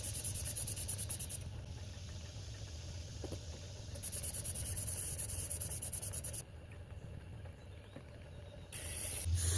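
A Vargas faceting machine grinds a hessonite garnet on a grit lap, giving a faint steady whirring hiss with a high whine that cuts in and out as the stone touches the lap.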